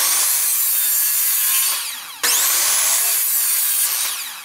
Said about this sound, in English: Now I'm just gonna cut out the sides of the birdhouse.